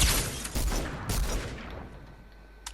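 Tactical pistol firing in Fortnite: a burst of sharp, loud shots in the first second and a half, then decaying echoes and scattered softer pops fading out, with no voices.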